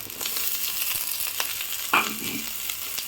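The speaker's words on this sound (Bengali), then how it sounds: "পেঁয়াজটাকে ভালো করে ভেজে নেব।" Onions frying in oil with green chillies while making Maggi soup, a steady close sizzle throughout with a brief louder clatter near the middle, no talking.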